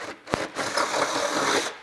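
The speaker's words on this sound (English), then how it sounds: "we're going through this with a 5/16 drill bit and we're actually going through the skin" A drill fitted with a 5/16 drill bit bores through the trunk skin of a G82 BMW M4 while a rear wing is being fitted, making a steady close grinding and rasping whir that runs for nearly two seconds after a brief tap.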